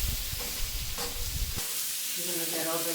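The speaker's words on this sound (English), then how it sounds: "I'm going to get all the seasoning from the meat and scrape off the bottom of this pan" Mushrooms and onions sizzle loudly in a pan as a utensil scrapes the browned bits off the bottom, a steady close frying hiss with rough scraping strokes that stop midway, leaving a calmer sizzle.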